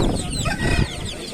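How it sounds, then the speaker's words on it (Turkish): A rooster and a hen cluck close by at a busy chicken market in Sakarya, with a dense babble of market noise and voices underneath. "Şu biri horoz, öbürü tavuk belli zaten"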